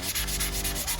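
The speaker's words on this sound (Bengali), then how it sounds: "এখানে আমি আবার 2500 গ্রিড যেটা, ওটা দিয়ে আমি হালকা একটু ঘষে নেব" Fine 2500-grit sandpaper rubbed lightly over car paint during scratch repair, a steady dense scraping rasp with quick back-and-forth strokes, close and alone.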